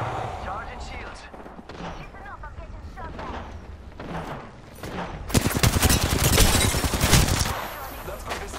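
Rapid bursts of gunfire in the battle game Apex Legends, light and scattered at first, then a dense, loud stretch of sustained shots near the end, with talk running underneath.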